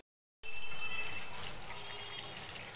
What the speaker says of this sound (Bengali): দেখি শাকটা ভালো করে ধুয়ে রান্না করে ফেলি।